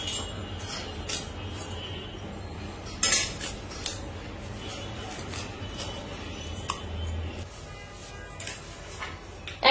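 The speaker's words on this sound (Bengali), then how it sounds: "এখন হচ্ছে আমি স্লাইস করতেছি, জাস্ট মাছগুলোকে আমার পছন্দ অনুযায়ী" A knife slicing a large fish, around 10 to 15 kilograms, into pieces, giving irregular sharp clicks and metallic taps against a steady low background hum.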